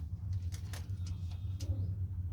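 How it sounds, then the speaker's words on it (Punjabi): A few soft coos from pigeons sound close by over a steady low hum. "ਆਹਾ ਕਬੂਤਰ ਇਧਰ 4-5 ਹੀ ਆ"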